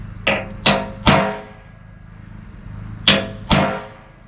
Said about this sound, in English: I'm going to punch the steel. So I'm just going to make punch marks